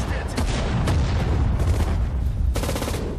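Grenade blasts and battle noise from the World War II strategy game Sudden Strike 4 in the Hurtgen Forest. Several heavy bursts crackle over a low rumble, with a strong blast near the end.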